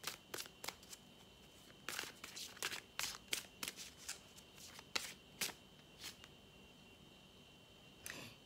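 Oracle cards being shuffled close by, a quiet series of crisp riffling bursts in an uneven rhythm, alone with no talking.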